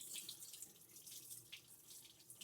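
Water from a kitchen tap runs steadily into a sink as rice is rinsed, a soft continuous splashing hiss with small fluctuations and no voices.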